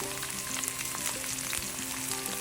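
Tomatoes frying in a skillet for a tomato and mushroom omelette, a brief close sizzle with crackling pops and a few faint tonal hums underneath.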